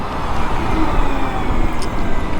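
A NIU NQiGT electric scooter rides at full throttle in eSave mode, a steady broadband rush of wind and road noise with a faint motor whine, loud and continuous throughout.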